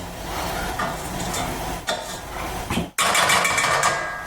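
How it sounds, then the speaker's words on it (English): A butter and sugar mixture for honey joys is stirred in a pan as it melts, with scraping and faint sizzling, close up, a brief knock near the end and no talk. "butter and sugar mixture a bit of a turn around. Oh, not turn around, I mean stir around. That's melting down"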